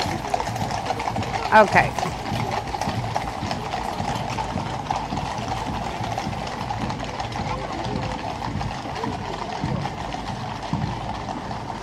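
Horses' hooves clip-clop steadily on pavement during the Trooping the Colour parade in London, as a crowd and nearby voices chatter over them.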